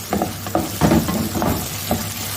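Pounded ginger garlic paste frying in a pan for tandoori aloo bharta, a close, low crackling sizzle broken by several soft scraping strokes of a spoon stirring it.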